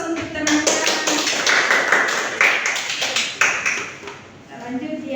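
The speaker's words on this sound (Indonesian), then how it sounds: "beri aplaus untuk teman-teman" Elementary schoolchildren in a fourth-grade classroom applaud their classmates with a quick burst of brisk, overlapping hand claps that fade out near the end, while voices chatter underneath.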